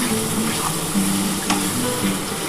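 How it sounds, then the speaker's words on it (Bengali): Masala with spice water being fried and stirred for a mutton and potato curry, a constant bubbling sizzle with occasional spoon scrapes against the pan. "ভালো করে মশলাটা কষিয়ে নিতে হবে।"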